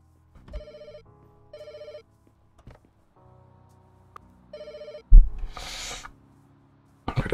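A telephone rings in the video game Pets Hotel, short electronic trilling bursts repeating with gaps, clear and close, followed by a louder thump and a brief noisy burst near the end.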